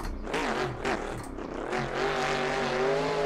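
A Mustang drift car at the Drift Invitational, its engine holding a steady, loud, droning high rev with shifting pitch, and a faint hiss of tire squeal beneath, with no talk over it.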